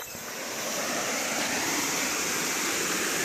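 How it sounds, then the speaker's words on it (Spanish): Small waterfall in a forest reserve, its water pouring in a steady, dense rush that stays constant and fairly close throughout, with no voices. "me encontré con esta primera cascada"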